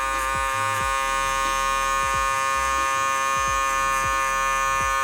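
Electric hair clippers buzz steadily and close up while cutting a taper fade, with a constant whine broken by soft, regular strokes through the hair.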